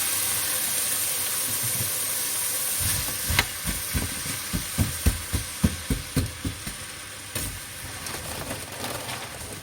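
Frozen vegetables stir-frying in olive oil in a pan give a steady sizzle and hiss, joined midway by a run of about a dozen rhythmic scraping stirs, close up with no voices.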